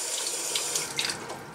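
Tap water runs steadily from a kitchen faucet onto a cutting board being rinsed, a close, continuous splashing hiss with no talking.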